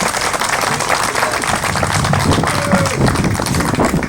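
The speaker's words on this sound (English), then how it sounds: "Give a big round of applause for Leanne Langlois, President, AMSS." Loud, sustained applause fills the room at a 2018 campaign launch for the AMSS president, a thick, even wash of many hands clapping with no break.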